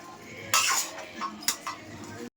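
A metal lid is set down on a pot of chicken curry cooking with turmeric, giving a few sharp clanks and scrapes in quick succession, close and moderately loud over a low kitchen hum.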